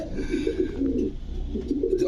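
Pigeons at a breeder's loft coo nearby, low rolling calls repeating in two clear bouts over a faint background hum.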